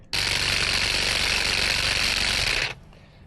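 A Saker 20V cordless hedge and grass trimmer cuts grass in one loud, close burst of buzzing reciprocating blades lasting over two seconds, then cuts off abruptly into quiet.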